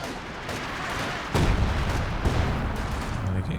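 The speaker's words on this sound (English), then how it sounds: "Zeroing artillery." Artillery shells exploding in Company of Heroes 2, a couple of heavy booming impacts rising out of a continuous battle din, moderately loud, with a commentator talking briefly.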